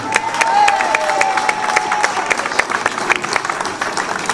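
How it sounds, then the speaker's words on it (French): Audience applause and crowd noise at the 2008 Martelange carnival, heard as steady clapping with scattered cheers and a few voices. A thin whistle-like tone rises above it early on. "un applaudissement s'il vous plaît pour notre président organisateur"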